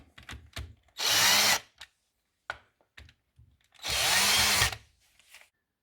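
Power drill driving screws to tighten a TEK 822 cellular propane monitor onto its mounting, two loud whirring bursts about half a second long separated by light clicks and handling taps.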